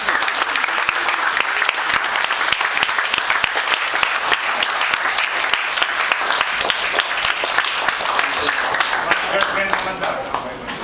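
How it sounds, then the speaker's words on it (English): Sustained, dense applause from graduating examinees honoring their standing parents fills the room at a steady loud level throughout, easing slightly at the very end. "And can I ask the examinees to applaud your parents?"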